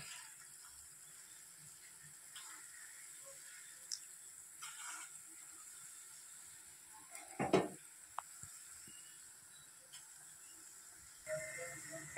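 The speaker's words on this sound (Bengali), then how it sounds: "এখন আমি এই যে একটা একটা করে সব তেলে ছাড়বো।" Ripe jackfruit fritters are lowered one by one into hot oil, giving a quiet, steady sizzle with a louder crackling burst partway through and a few faint clinks.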